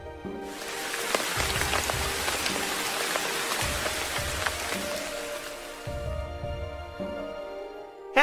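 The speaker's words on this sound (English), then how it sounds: "One day, there was a heavy rain." Heavy rain pouring down in a dense, even hiss beneath a soft melodic music backing, steady throughout with no voices.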